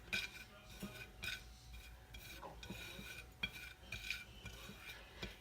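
Chicken tossed with garlic and onion powder seasoning, soft repeated stirring and clinking of a utensil against a bowl, faint and close with no talk.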